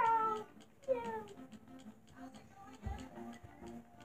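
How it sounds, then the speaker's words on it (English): A cat meows in a Roblox metal detector simulator game, with a long drawn-out meow followed by softer mewing, heard alone at moderate loudness. "Man, I feel like I have a cat in here."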